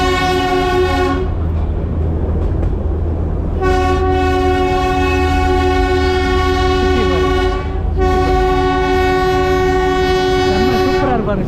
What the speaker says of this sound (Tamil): வீட்டு வாசல் வரைக்கும் ட்ரெயின்.